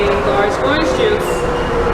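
Steady rumble and rolling clatter of a passenger train in motion, heard from inside a carriage with a faint high wheel whine, continuous and fairly loud throughout, while a person talks over it.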